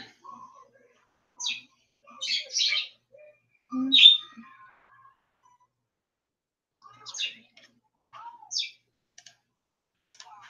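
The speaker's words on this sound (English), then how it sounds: "listening to the birds squawk" Birds squawking and chirping outdoors in scattered short bursts with quiet gaps between calls, some sharp and close, others fainter.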